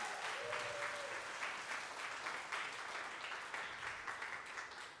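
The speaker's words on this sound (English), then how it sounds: "So we'll give him a hand of applause. Round of applause." Audience at a university music awards event giving a round of applause, a sustained, even wash of many hands clapping, moderately distant, with a brief faint tone near the start and easing slightly at the end.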